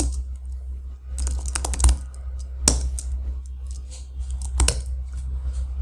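Typing on a computer keyboard while entering a command to install the Shopify command-line tool, giving sparse, irregular key clicks with a few sharper taps over a steady low hum.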